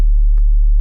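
A synth sub bass playing only its first harmonic, a pure and very low steady hum. It is loud and alone, with a brief soft blip in the middle.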